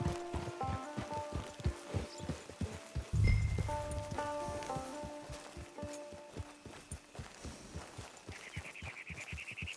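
Horse hooves clip-clop at a steady walking rhythm, close and clear, in the game Red Dead Redemption 2, with a soft ambient musical drone and a faint bird call near the end.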